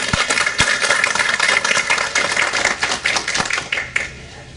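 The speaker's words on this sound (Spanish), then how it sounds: "Les pido por favor un aplauso de bienvenida para nuestros compañeros." Welcome applause from an audience at a university education event in Chiclayo, sustained crowd clapping that is fairly loud and continuous, with a few sharper knocks standing out and no speech.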